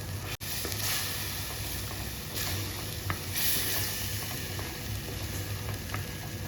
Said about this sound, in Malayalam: ഒരു ടീസ്പൂൺ പെരിഞ്ചീരകപ്പൊടിയും ഇട്ട് കൊടുത്തിട്ട് ഇത് നന്നായിട്ട് ഒന്ന് വറുത്തിയെടുക്കാം